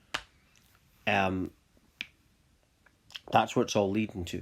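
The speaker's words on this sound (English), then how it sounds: "that was me clicking my fingers, by the way," Two sharp, dry finger snaps ring out close and alone, one near the start and one mid-clip, with someone talking before and after them.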